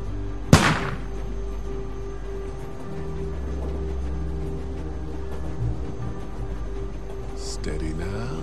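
A single sharp, loud gunshot in The Walking Dead video game near the start, followed by quieter ambient game sound and a voice talking underneath.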